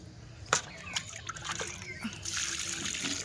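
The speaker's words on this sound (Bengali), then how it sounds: "তো চলো এটাতেও জল দিয়ে দিই, যদিও মাটি নরম রয়েছে এখনো।" Water trickles and splashes onto soft potting soil around a plant, a short close pour that starts with a splat and settles into a steady dribble, fairly quiet.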